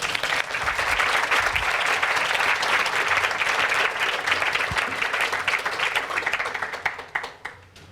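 Sustained applause from a lecture audience welcoming meditation teacher Joseph Goldstein, dense steady clapping filling the room before thinning into a few scattered final claps.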